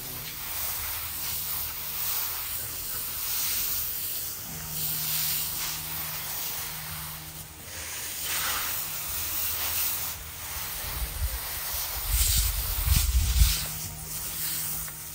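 Newly planted garlic being watered with a hose spray, giving a steady, continuous hiss that swells slightly at times. It is moderately loud and runs throughout without talk.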